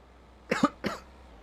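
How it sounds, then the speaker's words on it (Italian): Two quick, close coughs in a row, the first a double burst, against a quiet background, heard over Farming Simulator 25 gameplay. "Scusate la tosse, mannaggia mia."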